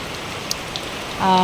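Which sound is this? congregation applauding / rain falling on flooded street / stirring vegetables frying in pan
rain falling on flooded street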